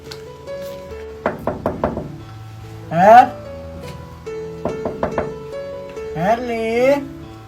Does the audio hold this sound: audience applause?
no